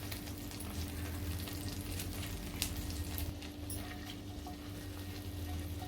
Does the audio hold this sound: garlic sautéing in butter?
yes